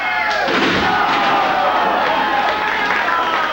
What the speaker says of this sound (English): you can hear the IWA crowd loving it